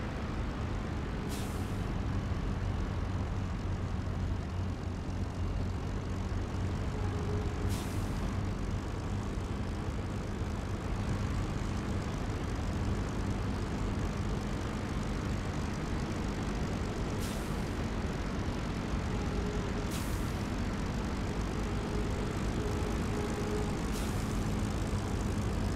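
Aircraft engine droning steadily after touchdown in a flight combat game, a loud continuous rumble with a few brief sharp clicks scattered over it and no talking.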